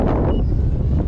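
Gusty wind buffets the microphone of a drone flying in strong wind, a close, loud, rumbling roar that lasts about a second.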